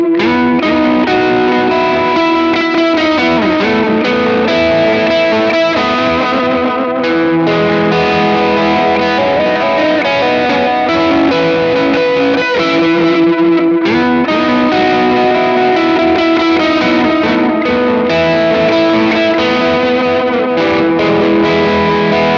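Electric guitar played through JHS 3 Series overdrive and delay pedals: crunchy, sustained chords and notes with echoing repeats set to the tempo, loud and full, continuous for over twenty seconds, with no speech.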